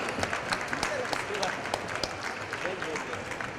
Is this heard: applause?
yes